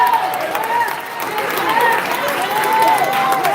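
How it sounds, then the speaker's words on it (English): Audience in a Dolton village meeting applauding Mayor Lightfoot, steady moderate clapping from a room of people lasting throughout, with faint voices mixed underneath. "we want to ask everybody to give a round of applause to Mayor Lightfoot"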